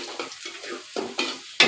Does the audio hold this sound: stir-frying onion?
yes